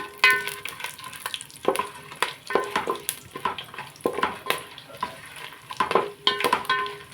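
Whole pulao spices frying in a pan for prawn biryani, with repeated close scraping stirs of a spoon over a light sizzle in an irregular rhythm, no talking.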